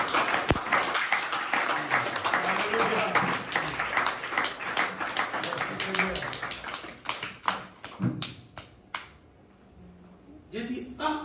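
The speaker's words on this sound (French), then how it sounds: "Est-ce qu'on va applaudir cet agent?" A French-speaking church congregation applauds during a sermon, crisp close claps and taps in an uneven rhythm under some talk, thinning out toward the end before a brief final burst.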